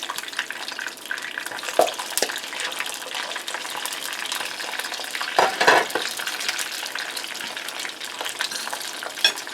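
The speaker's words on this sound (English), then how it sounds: "I'm going to put these in there. You want to be careful so that the oil doesn't pop out at you" Food frying in hot oil on medium heat in a pan, a continuous crackling sizzle with a few louder pops and stirring scrapes, close and fairly loud, no talk.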